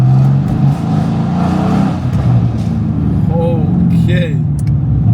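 Lamborghini Revuelto supercar on a London street, a loud close engine drone rising and falling as it moves past, with voices talking over it.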